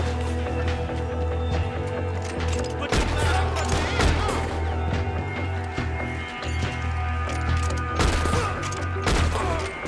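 Gunshots in Red Dead Redemption 2 crack out as several loud, sharp bursts over a rumbling background layered with game sound, with a voice speaking among them.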